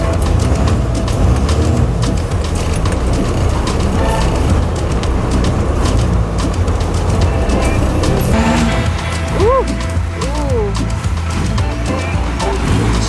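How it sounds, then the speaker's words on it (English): Van engine rumbling at low speed as it drives over sand onto a beach in El Salvador, a steady close drone with voices talking over it throughout. "It's kind of scary because we're about to drive over sand."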